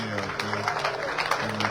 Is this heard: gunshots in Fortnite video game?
no